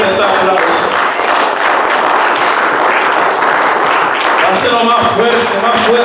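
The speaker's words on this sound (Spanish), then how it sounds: "Dale fuerte ese aplauso." A church congregation applauds loudly and continuously, dense clapping filling the room, with a voice calling out over the applause.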